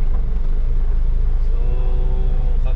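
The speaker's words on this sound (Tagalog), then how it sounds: "At pagkahapon naman dito, napaka-traffic." Heavy afternoon traffic in Makati, heard from inside a 1000 kg delivery van, makes a steady, fairly loud low engine rumble with a continuous road drone and no talking.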